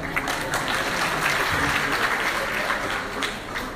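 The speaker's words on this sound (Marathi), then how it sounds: "सायकल साठीच्या नाही कार साठीच्या टाळ्या." An audience at a jewellery store's mega prize draw in a hall claps steadily and loudly for a car prize winner, a dense, sustained round of applause with faint voices underneath.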